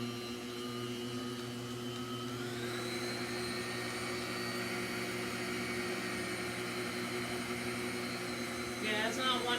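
A $99 kitchen blender churns thick homemade carrot cake batter, a steady droning motor whir running continuously, moderately loud and close, with a slight change in pitch partway through.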